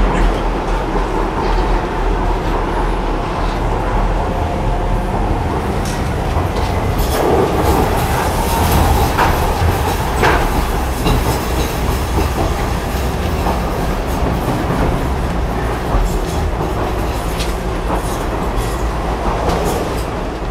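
A London Underground Jubilee line train riding along, with loud continuous rumble and clickety-clack of the wheels and brief squeals over the run, no talk.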